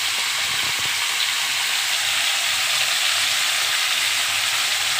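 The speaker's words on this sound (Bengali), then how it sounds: "আর এদিকে ফুলকপি আলুটা ভাজা হচ্ছে" Cauliflower and potatoes fry in a pan during Bengali home cooking, giving a loud, steady, dense sizzle that holds evenly throughout with no voices.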